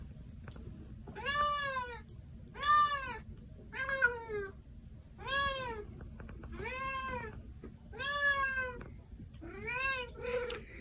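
A house cat meows about seven times in a slow, evenly spaced series of clear, drawn-out calls, each rising and falling in pitch, close and distinct over a quiet background.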